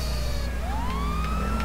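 Police car siren in GTA 5, a rising wail that sweeps upward and holds steady, loud and continuous over constant traffic and engine rumble on a freeway.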